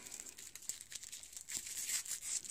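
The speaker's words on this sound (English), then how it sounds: "So let's unwrap it and see what we got inside the paper case." Paper packaging around a newly delivered Harley Benton SC-400 guitar is unwrapped, giving soft, close crinkling and tearing rustles in uneven bursts, quiet and without speech.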